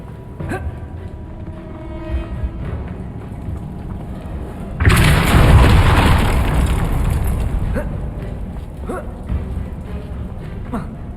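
A spell blast in the Hogwarts Legacy video game, a sudden loud burst of rushing, crackling energy that fades over a few seconds, following quieter footsteps and game ambience.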